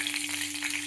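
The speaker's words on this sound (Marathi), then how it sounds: "ह्याच्यामध्ये आता आपण जिरे टाकून घेतलेले आहे." Cumin seeds sizzle in hot oil in a kadhai, a steady close crackle and hiss over a faint low hum.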